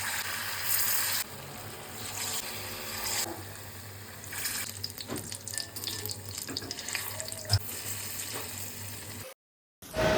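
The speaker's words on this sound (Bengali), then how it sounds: "এবার কড়াইতে রিফাইন তেল গরম করে হাতের সাহায্যে এক এক করে বড়াগুলো ভালো করে সোনালি বাদামি রং করে ভেজে নিলাম" Palm fruit fritters fry in hot refined oil in a wok, giving a steady bubbling sizzle that rises and falls as pieces go in, with no talking.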